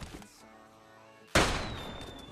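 A single loud gunshot from PUBG Mobile Lite cracks out sharply about halfway through, then leaves a decaying ring-out after a quieter stretch of in-game ambience.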